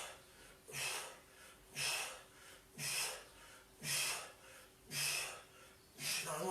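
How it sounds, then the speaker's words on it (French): Forceful rhythmic exhales during a Thai boxing workout, six sharp breathy bursts at roughly one-second intervals, close and fairly loud with quiet gaps between. "Soufflez bien."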